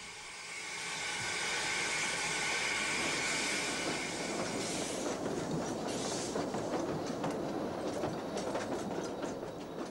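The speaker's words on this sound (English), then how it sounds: "The southbound train drifts out of the station, the compound Mallet tank making easy work of the falling grades" Train hauled by a compound Mallet tank steam locomotive leaves a station on the Corgo line, opening with a loud steam hiss that gives way to rhythmic wheel clatter over rail joints, fairly close and steady, with no talk.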